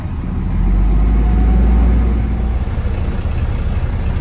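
A 1997 Volvo truck loaded with chopped corn silage pulls away after its parking brake is released, its engine rumbling loudly and rising in a low, steady drone.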